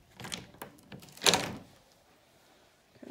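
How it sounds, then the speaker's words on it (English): A sliding closet door in a first-floor guest room of a new home opens with a few light knocks and then one loud rolling slide-and-thunk, followed by near silence. "Let's open this closet."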